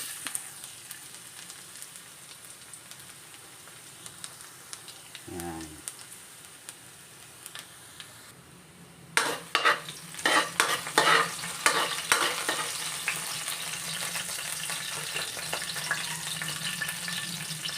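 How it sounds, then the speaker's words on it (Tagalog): Garlic dropped into hot oil for kangkong adobo: a faint background hiss, then a sudden louder sizzle with crackling and several spatula scrapes and knocks as the garlic is stirred. "Yan, una nating igisa ay garlic."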